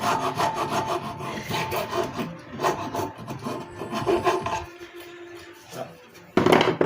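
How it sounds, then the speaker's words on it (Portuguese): Hand file rasping a metal part for a homemade angled bench vise, steady back-and-forth strokes, close and moderately loud, with a louder scrape at the end. "Não posso limar muito, porque senão fica muito folgado."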